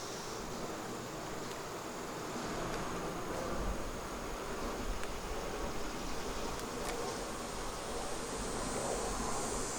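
Honeybees buzz in an open beehive during winter preparation, a continuous, even drone from many insects close by, with no talking.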